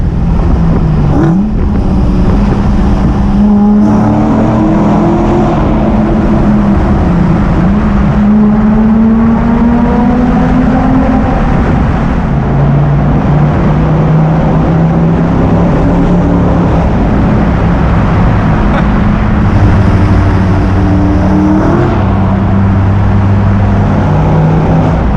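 A Nissan 350Z with a custom exhaust revs and accelerates in a tunnel, a loud, booming engine note rising and falling through several pulls with echoing reverberation and no talk.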